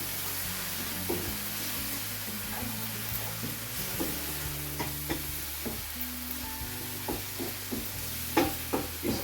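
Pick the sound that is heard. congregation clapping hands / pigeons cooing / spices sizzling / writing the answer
spices sizzling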